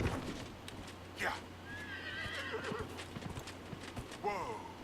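A horse in Dragon Age Inquisition whinnies and neighs twice while its hooves clip-clop steadily, set against game ambience with a brief voice.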